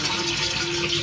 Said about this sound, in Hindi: टंकी में पानी आ रहा है।